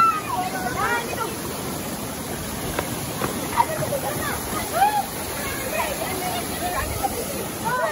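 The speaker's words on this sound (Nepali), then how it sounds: "Guys, this is very wonderful river." A river runs as a steady broad rush of flowing water close by, loud and continuous. Voices of a group of karate students and their teachers chatter and call out over it throughout.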